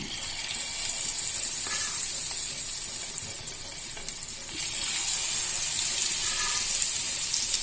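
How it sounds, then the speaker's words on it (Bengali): Hot mustard oil crackles and sizzles steadily as egg fritters fry, with a faint scrape of stirring now and then. "এবার তেলের মধ্যে আস্তে আস্তে মা বড়াগুলো দিয়ে দিচ্ছে।"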